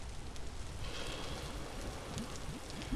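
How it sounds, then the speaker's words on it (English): Rain falling in the Vintage Story video game, a faint, steady hiss of drops on surfaces that continues evenly with no talk over it. "It's still raining. You can definitely hear that."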